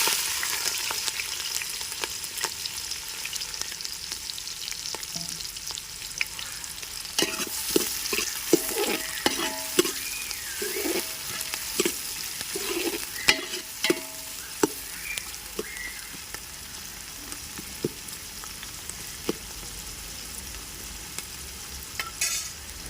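Onions and small green chillies frying in a pan for a country chicken curry, producing a continuous hissing sizzle punctuated by irregular pops and spatters, close and fairly loud, with no talking.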